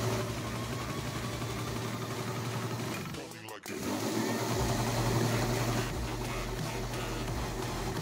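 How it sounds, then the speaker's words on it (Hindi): Mixer grinder blending an oats protein shake with water, a steady, loud motor whir that briefly dips near the middle and then resumes. "मिक्सी में आप बहुत जल्दी इसको शेक को बना सकते हो।"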